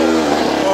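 A kart engine on a race circuit holds a steady, loud, buzzing drone, close and continuous for a brief moment.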